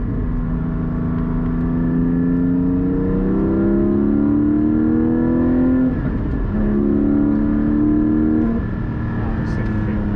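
A Porsche GT4 engine pulls steadily through a couple of gear changes with rev matching, the pitch climbing, dipping briefly and climbing again. It is heard from inside the car as a continuous, fairly loud drone with road noise.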